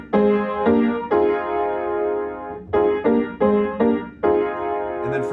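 Piano chords are struck one after another in a rhythmic progression, some held and ringing, others played in quick repeated stabs, clear and close.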